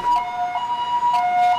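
Ambulance siren wailing in a loud, steady repeating two-tone cycle, close by and alone without talk.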